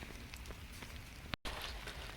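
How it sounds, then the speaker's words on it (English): Rain falling outdoors at a campsite near a campfire and hammocks, a dense steady patter of drops with a brief dropout midway, close and fairly soft. "The rain has started."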